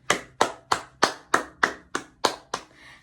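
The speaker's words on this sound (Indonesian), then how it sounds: "Tepuk tangan dulu untuk diri kita sendiri" A teacher's class claps in unison at the end of a lesson, about nine sharp, evenly spaced hand claps over three seconds, close and clear, with no talking.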